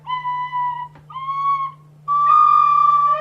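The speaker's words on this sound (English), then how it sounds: "So this, and the same on the whistle. It's a versatile instrument. It has 2 octaves." A tin whistle plays three sustained notes, the first two short and separated by a brief gap, the last longer and steady, sounding clear and close with no talking over it.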